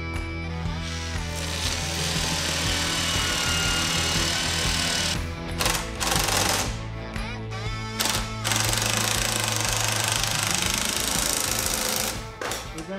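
A power drill bores out rivets on the bumper bracket of a 2022 Ski-Doo Summit SP Gen 4 snowmobile, running in loud, close whirring bursts with short pauses, while voices speak now and then.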